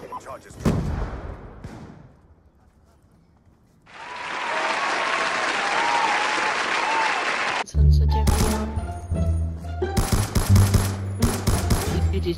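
Rapid gunfire in Call of Duty: Black Ops 2 multiplayer, loud dense bursts in the last few seconds after a stretch of steady noise, with a voice talking between shots.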